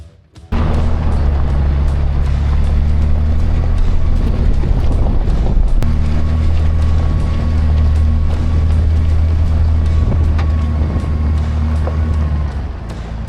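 A vehicle drives a bumpy desert road on an Arizona overland trip, a steady loud rumble with wind buffeting the microphone throughout, continuous and close, with occasional jolts.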